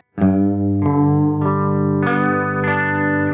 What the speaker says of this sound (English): you're getting more of a chorus sound because you've got your clean signal and then you've got the vibrato